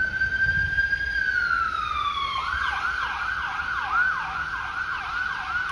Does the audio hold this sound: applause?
no